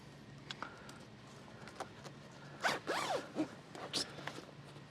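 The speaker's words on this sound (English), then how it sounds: "Next step, you want to zipper now." Zipper on a boat console cover being pulled in a few short, scratchy strokes, close and clear, with quiet fabric handling between pulls and no talking.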